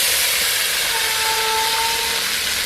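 Ground spice paste hits browning onions in hot oil, setting off a loud, steady hiss that fills the whole stretch, with a faint thin whistle-like tone riding over it in the middle.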